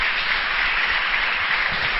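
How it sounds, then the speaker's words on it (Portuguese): A church congregation gives the Lord a round of applause, a steady wash of many hands clapping together through the whole moment at even, moderate loudness. "Vocês podem dar uma salva de palmas ao Senhor?"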